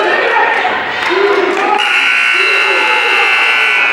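A buzzer sounds at the end of a wrestling period in a high school match, a steady electronic tone under crowd noise and commentary, loud and close in a busy gym.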